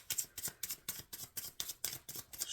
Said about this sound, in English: Shuffling for Gemini.